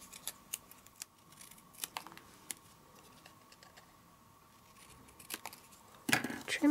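Scissors trimming card paper, heard as quiet, close, scattered snips with pauses between them, ending in a louder burst of handling and rustling.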